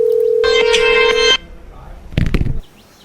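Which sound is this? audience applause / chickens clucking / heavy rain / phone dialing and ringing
phone dialing and ringing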